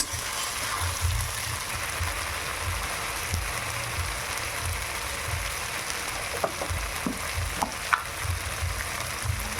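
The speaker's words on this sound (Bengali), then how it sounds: "মশলাটা আমি ভালোভাবে ভেজে নিই।" Spices fry in a pan for a Bengali vegetarian dish, a steady close sizzle with a few sharp scrape and stir clicks near the end, no talking.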